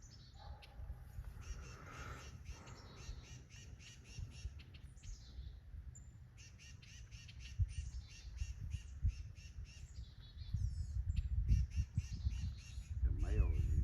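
Birds squawk and caw repeatedly while mobbing a snake outdoors, the calls fairly close and intermittent over a steady background rumble, growing busier toward the end.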